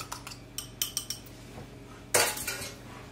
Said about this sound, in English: So you can whisk it up a little bit again.